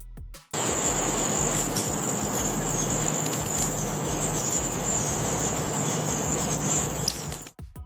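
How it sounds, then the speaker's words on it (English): AI-generated forest ambience, a steady wash of insect and cricket chirring with a high continuous buzz, loud and constant for about seven seconds, with no voices. "The gentle flutter of the wings and the ambient forest sounds were perfectly synchronized"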